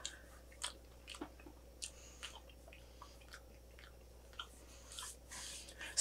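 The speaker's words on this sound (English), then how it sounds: "Just bite it and hand it over." A Japanese strawberry-filled chocolate snack bitten and chewed, giving quiet crisp crunches in a short irregular burst, close up with no talking.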